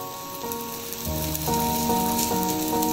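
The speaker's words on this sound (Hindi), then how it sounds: "फिर से हम इसको पलटेंगे और दूसरी साइड से घी लगाकर सेकेंगे" Sooji cheela sizzling in a hot pan with oil and ghee, a steady, close crackle and hiss that grows louder partway through and holds without talk.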